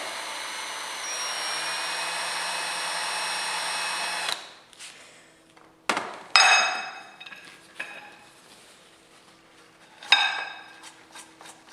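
A power drill tapping M5 threads into holes for a laser engraver build: a steady, fairly loud whir for about four seconds, then scattered metallic clinks and short tool bursts.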